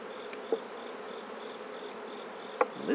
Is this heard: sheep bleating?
no